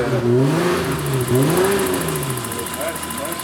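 A BMW E30 engine revs up and falls back in two rising-and-falling sweeps over a rough idle, loud and near, with people talking over it.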